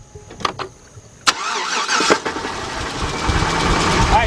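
A 2006 GMC Envoy XL Denali with the 5.3 V8 and a knocking fault cranks and fires after a few short clicks, then settles into a steady, loud, close engine run.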